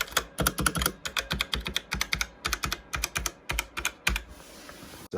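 Typing on a Trust GXT 865 Asta mechanical gaming keyboard, rapid uneven bursts of sharp close clacks with short pauses between words, loud and dry with no talking.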